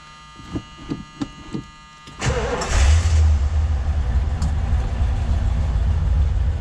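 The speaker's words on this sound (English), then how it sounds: "Vehicle starts right up, runs well." A 1976 Lincoln Continental Cartier Edition engine cranks and catches after a few faint clicks, then settles into a steady, loud idle with a low rumble.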